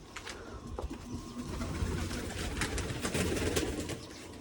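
Pigeons coo at close range in a series of low, repeated calls. Faint shuffling and rustling from the birds runs underneath, and no one speaks.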